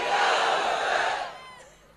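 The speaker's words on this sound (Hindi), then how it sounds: "जरा जोरदार नारा लगाइए, नारे तकबीर" A large gathered crowd at a religious sermon shouts a loud unison Takbir slogan in one sustained roar that fades out over about two seconds.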